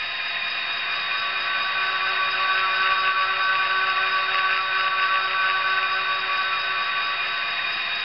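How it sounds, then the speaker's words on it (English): Dynamic brake sound from a Tsunami DCC decoder in an Athearn N-scale FP45 model locomotive: a steady, whining fan-like roar that holds constant throughout, heard alone at moderate level. "This is the dynamic brakes."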